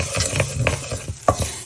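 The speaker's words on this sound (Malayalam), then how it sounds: "നമുക്ക് ഒരു സ്പൂൺ കടുക് ഇട്ടുന്നു വറുത്തെടുക്കാം" Mustard seeds roasting over low heat in a pan for Kerala-style mango pickle, giving a soft continuous sizzle with quick scraping stirs and small pops, close and clear with no talk.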